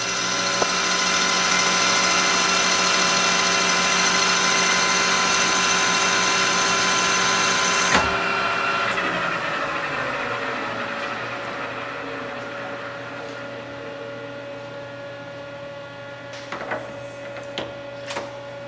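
Metal lathe cutting a groove into a taper, a steady mechanical whine with tonal hum that drops away partway through, leaving a quieter motor hum and a few light clicks near the end.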